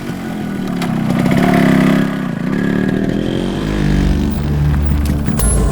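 A vehicle engine idles steadily, then revs and pulls away, loud and close, its note rising and settling in a continuous rumble with no talk.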